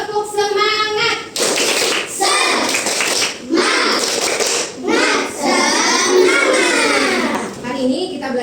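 Classroom of young pupils at an Islamic primary school performing a rhythmic clapping cheer, bursts of hand claps mixed with loud chanted children's voices and a teacher speaking, close and energetic throughout.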